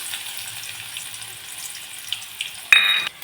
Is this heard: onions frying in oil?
yes